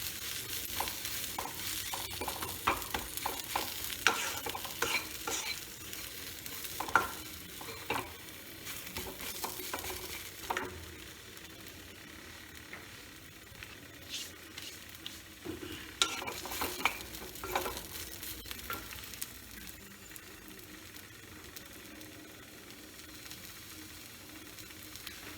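Eggplant sizzles and crackles steadily in hot oil in a pan, with intermittent scraping and stirring clatter over a low, continuous fry, close and moderately quiet, with no voices.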